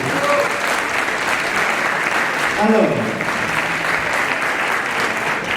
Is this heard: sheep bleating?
no